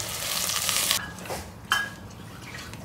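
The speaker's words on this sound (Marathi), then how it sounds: "मसाल्यासकट तेलामध्ये छान परतून घ्यायचे आपल्याला" Rice coated in masala is stir-fried in hot oil, heard as a close, steady sizzle with a couple of scraping stirs and a light clink against the pan.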